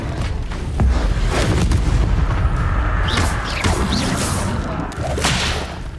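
Incendio fire spell cast in the video game Hogwarts Legacy: a loud, sustained whooshing burst with booming, crackling impacts that swell and flare for several seconds, with no talking.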